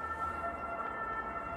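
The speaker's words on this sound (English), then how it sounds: "You know, it got all the sirens." A steady, faint emergency-vehicle siren wail from a Farming Simulator 22 map sounds continuously over low background rumble, with no speech.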